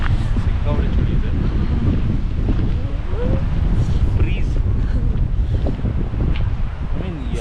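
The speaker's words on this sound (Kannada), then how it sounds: "ಇಷ್ಟು ಗಾಳಿ ಇದೆ ಅಲ್ಲ" Strong wind gusting across the mountain top at Kolukkumalai in Munnar, a steady loud rushing roar buffeting the microphone throughout, with faint voices underneath.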